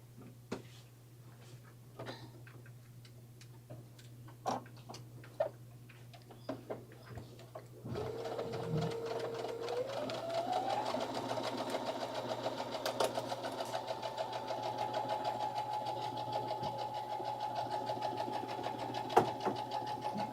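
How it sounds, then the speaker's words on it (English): A sewing machine stitches the crotch seam of lounge pants, starting after several seconds of quiet handling clicks and running as a steady, fast mechanical whir close by until the end, with no talking. "I'm going to sew our crotch together"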